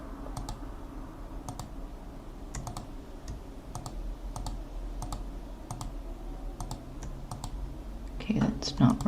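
Soft computer keyboard and mouse clicks tap out in small irregular clusters, close and faint over a low background hum, while a person speaks quietly alongside.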